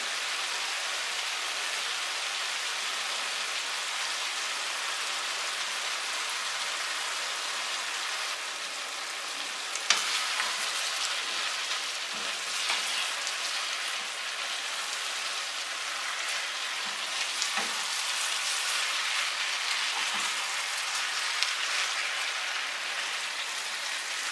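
Meat and vegetables with tomato paste stewing in a pot make a steady, hissing, rain-like simmer. Faint crackles and soft pops come through now and then, close and even throughout, with no voices.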